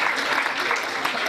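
A seminar audience in Lahore applauding, a dense wash of many hands clapping at once for a brief moment, steady and fairly loud.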